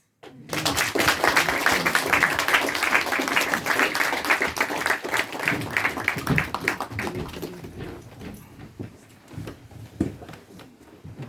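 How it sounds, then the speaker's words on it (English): Audience applause follows the introduction of a Q&A panel at the IFL 2025 event, dense and loud for several seconds before thinning into scattered claps and tapering off. "please, a big round of applause"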